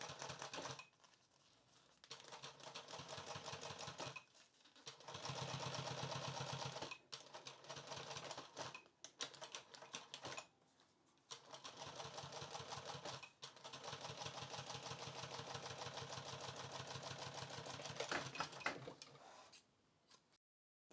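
Sewing machine fitted with a top stitch foot running stitches through a leather test piece for fluted upholstery, a steady rapid mechanical ticking in several bursts separated by short pauses, close and alone.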